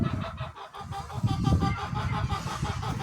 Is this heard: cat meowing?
no